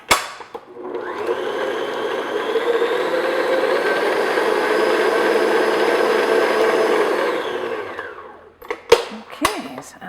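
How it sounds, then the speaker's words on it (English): An electric mixer beats eggs and vanilla into spritz cookie dough, a steady whirring drone that rises and holds for several seconds before stopping, followed by a few clattering knocks as the bowl is scraped. "So now I'm just going to beat the eggs and vanilla in."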